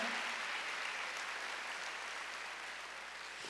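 A church congregation claps together during a Wednesday worship service, a steady, dense wash of hands that holds evenly for several seconds and fades slightly toward the end.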